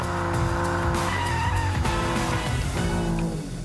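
A car driven aggressively on a test track, tires skidding and squealing loudly over a revving engine, a continuous close scrabble of rubber with no talk.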